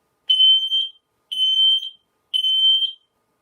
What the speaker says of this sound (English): I'm going to press the buttons, then you know exactly what sound to listen out for when your adults test the smoke alarm at home